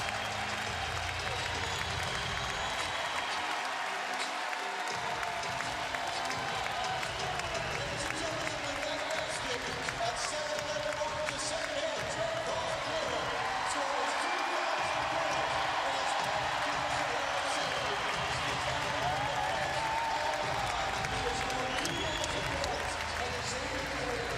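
A crowd at an NCAA men's college basketball game, Marquette at Xavier, keeps up a long, steady roar of applause and cheering throughout, broad and distant-sounding, with arena noise and voices underneath.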